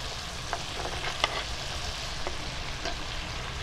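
Radish pieces dropped into a hot pan for a Bengali prawn curry, giving a steady close sizzle with a few light clinks and stirring scrapes, no voices over it.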